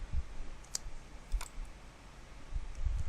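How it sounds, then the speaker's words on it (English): A single sharp mouse click on a submit button, near and fairly quiet, with faint keyboard-like ticks around it over low room rumble. "Now I'm going to click submit."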